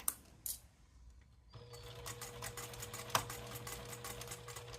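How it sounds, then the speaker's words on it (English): A sewing machine stitches a cork pouch, starting after a couple of small knocks and then running as a fast steady mechanical whir with a brief clack partway through. "put another little double stitch, sew across the edge"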